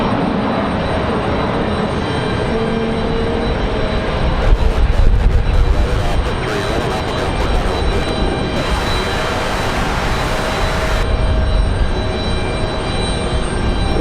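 A regional airliner takes off from Raleigh-Durham airport for a short flight, a loud continuous engine roar, close and sustained, with gusting wind buffeting the microphone.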